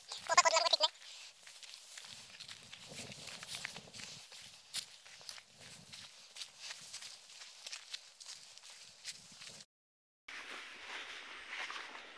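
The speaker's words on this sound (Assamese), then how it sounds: "ছাগলী" A goat gives a loud, close bleat at the start, followed by quieter rustling footsteps and scattered movement on the ground, with a brief gap of silence near the end.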